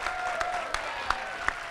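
Scattered, fairly faint applause from a convention audience for a band at a Fiesta Equestria 2017 panel, with a few sharper claps standing out over a steady background.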